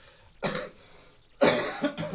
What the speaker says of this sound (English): Sorry, bit of a cough there too.